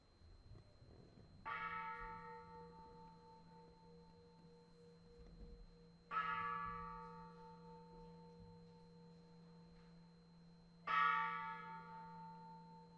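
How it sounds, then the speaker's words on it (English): A school bell rung once each by three principals at a school complex closure ceremony, three clear, resonant strikes spaced several seconds apart, each ringing out and slowly decaying in a quiet hall. "Each principal will ring the bell one time to symbolize the final closure of each of the schools"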